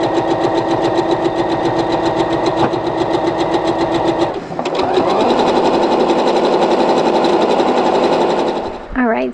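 A sewing machine stitches quilt seams with a continuous, fast mechanical chatter, loud and near, broken by one brief pause midway while a person talks over it.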